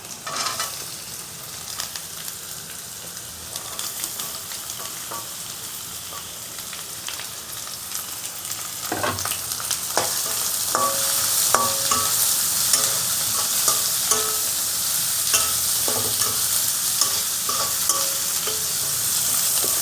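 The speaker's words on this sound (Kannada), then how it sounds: "ಇವಾಗ ಇದಕ್ಕೆ ನಾನು ಕ್ಯಾರೆಟ್ ಮತ್ತು ಬೀನ್ಸನ್ನು ಹಾಕ್ಕೊಳ್ತಾ ಇದ್ದೀನಿ." Carrots and beans being stir-fried with chillies and garlic for vegetable fried rice, a steady close sizzle with scraping stirs that grows louder partway through and continues without speech.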